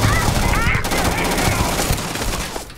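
Dense rapid gunfire in the space video game Starfield, loud and continuous automatic bursts with overlapping shots, layered with game voices and effects.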